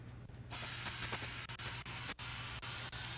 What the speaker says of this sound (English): this is spray adhesive